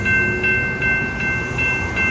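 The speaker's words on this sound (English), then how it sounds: "There's another train coming, guys." A train runs along a railroad, with a continuous loud rumble of moving cars and steady high tonal squeal or horn-like tones held across the whole stretch, no talking over it.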